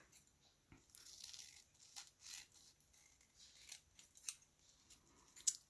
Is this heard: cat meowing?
no